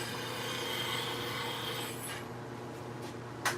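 A woodturning gouge is sharpened on a grinder, a steady abrasive whirring hum with rubbing scrape against the wheel, close, ending in a short bright metallic touch.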